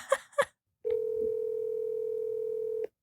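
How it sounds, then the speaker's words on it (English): A telephone ringback tone sounds as a call is placed, one steady unbroken tone lasting about two seconds, loud and close, preceded by two brief knocks or voice bursts. "It's ringing."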